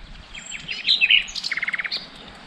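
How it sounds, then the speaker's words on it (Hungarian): Several birds chirp near the shore along a coastal bike path in Greece, a run of quick bright tweets and trills followed by a rapid series of repeated short chirps, fairly close with no talking. "És madárcsicsergés."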